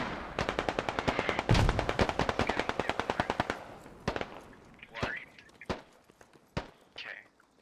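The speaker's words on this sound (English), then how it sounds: "AK fire randomly going out here" A rapid, loud string of AK rifle shots rattles off in the game Squad, then a few scattered single cracks echo farther off, with faint talking underneath.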